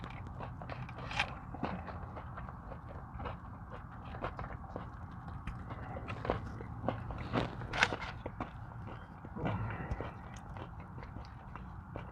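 Close crunchy chewing of Buffalo Wild Wings onion rings inside a car, repeated crisp bites and chewing crackles in an irregular rhythm, no talking.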